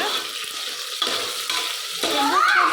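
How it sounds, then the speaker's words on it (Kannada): Crushed green chillies stirred and frying in a hot pan for mushroom pulao produce a steady close sizzle, with a louder spitting burst as the spoon turns them. "3 ಮೆಣಸಿನ್ಕಾಯಿ ಈ ಥರ ಕುಟ್ಕೊಂಡಿದ್ದೀನಿ. ಒಂದು ಸ್ವಲ್ಪ ತಿರುಗಿಸ್ಕೊಡ್ತಾ ಇದ್ದೀನಿ."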